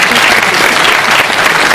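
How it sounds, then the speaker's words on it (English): A convention panel audience at PAX East bursts into loud, dense clapping for Samba de Amigo, a steady wall of applause that holds for about two seconds without letup. "Clap just for Samba de Amigo"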